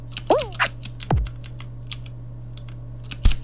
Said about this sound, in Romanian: Dacă se aude tastatura,